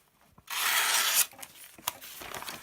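A new knife slices through a sheet of catalogue paper in one loud, rasping cut lasting under a second, followed by a few faint rustles and taps.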